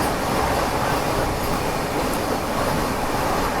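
A Deoghar–Varanasi Vande Bharat Express passes at a crossing, a steady loud rush of rail noise and rolling wheels that holds even throughout, with no voices.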